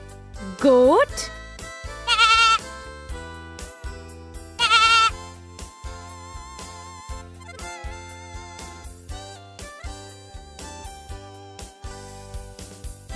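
A goat bleats three times, each call a short, wavering cry, spaced a second or two apart over light background music.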